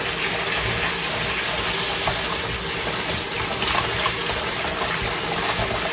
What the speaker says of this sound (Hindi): फिर ये मेरे चावल, और इनको मैं गर्म पानी में ही वॉश करने लगी हूँ।